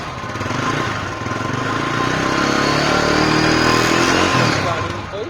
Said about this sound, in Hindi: इसका इंजन का आवाज बहुत ही स्मूथ है।